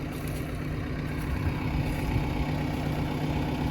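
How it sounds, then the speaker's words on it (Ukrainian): A Lovol 1054 tractor of 105 horsepower runs steadily while ploughing with a Lemken EurOpal 5 plough, a loud, constant low engine drone heard from close by without pause. "Коренка трактором лобом 1054, 105 кінських сил і плуг Ленкен Європа 5."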